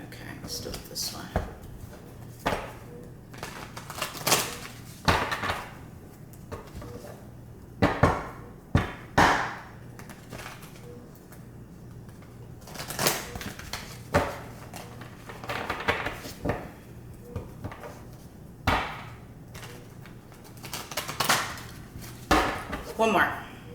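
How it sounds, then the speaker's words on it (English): Long tarot card deck being shuffled by hand: irregular riffling clicks and sharp card taps recurring through the stretch, close up, with a voice talking over much of it. "this deck is a little long, so a little hard to shuffle."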